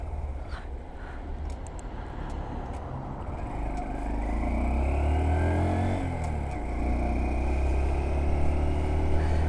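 Honda Dax ST125 motorcycle on the road on a hot sunny day, a steady engine drone with rising revs and wind rumble throughout, heard from the rider's position.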